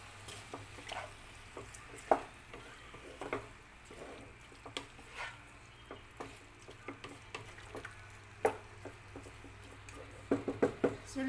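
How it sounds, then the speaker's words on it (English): Cuttlefish adobo in oyster sauce and soy sauce simmering in a pan, quiet bubbling and soft popping with scattered light clicks and ticks, faint and close, with no talking. "So we just simmer this until our cuttlefish gets cooked."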